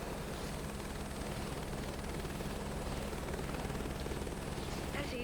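A helicopter in Microsoft Flight Simulator 2024 on a farming crop-spraying career mission gives a steady, close rotor thrum and engine whine that holds evenly throughout, and a voice talks faintly underneath.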